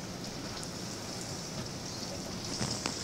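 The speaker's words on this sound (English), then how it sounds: "Gotta be hailing." Hail and heavy precipitation pelting surfaces during a tornado storm at a house, a dense steady patter with a few sharper impacts near the end, heard close and continuous with no voices.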